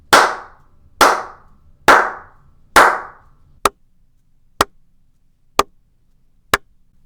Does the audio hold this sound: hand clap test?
yes